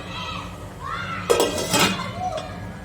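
A metal pot lid clanks down to cover a corn flour snack cooking in a pan, a single close metallic clink with a brief rattle while a voice talks nearby.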